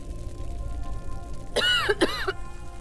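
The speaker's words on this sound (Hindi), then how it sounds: "माँ को खांसी" Two short throaty coughs from one nearby person, one right after the other, over a quiet room background.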